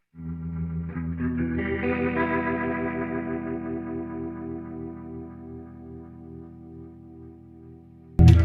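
Electric guitar through a rotary pedal imitating a Leslie cabinet, sustained chords with a swirling, wavering chorus-like modulation, close and moderately loud, ending in a sudden loud thump.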